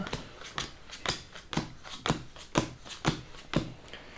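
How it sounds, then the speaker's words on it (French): Playing cards dealt one at a time onto a table at the start of a game of Zenith, eight crisp evenly spaced snaps and slides in a steady rhythm, close and clear with no talking. "je distribue maintenant 4 cartes"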